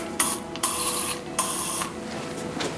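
Several short hissing sprays from an aerosol can of Behold furniture polish onto a vintage Trek bike, three quick bursts in a row, close by with no talking.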